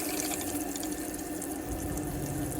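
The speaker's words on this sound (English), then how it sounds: "So the pump's just kicked in." Water runs from a tap in a 2002 IH motorhome while the onboard water pump kicks in, giving a steady close rushing flow with a low mechanical hum beneath it and no talking.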